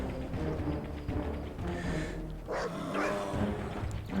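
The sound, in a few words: dog barking in video game Red Alert 3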